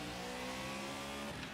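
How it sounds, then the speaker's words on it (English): Steady, fairly faint drone of a stock car engine held at revs in the racing game Project Cars, continuous and even with no talk over it. "Stock car sounds good, to be fair."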